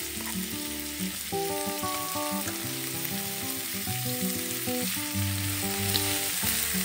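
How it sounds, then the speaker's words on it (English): Cut ginger and green chili fry for shrimp fried rice, a steady hissing sizzle throughout, with a faint tonal hum and soft music-like tones beneath, nobody speaking. "Fry all of this"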